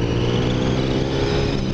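Brief, loud burst of a Suzuki SV650 engine running at high revs through an SP Tadao muffler, a dense steady buzzing exhaust note heard up close without any voices.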